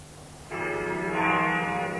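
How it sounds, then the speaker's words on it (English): Church bells of the Church of the Nativity in Bethlehem ring out over the town, a sustained, resonant tolling that starts suddenly and carries on steadily, fairly loud and clear with no talk. "From the Church of the Nativity in Bethlehem, the bells ring out over this Christian town."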